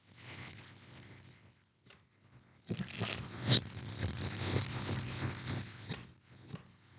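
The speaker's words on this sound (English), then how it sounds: "go ahead and give these a couple more shuffles" Tarot cards being shuffled by hand, a soft papery riffle and scraping that starts faintly, pauses, then runs steady and close for several seconds with a sharp snap midway.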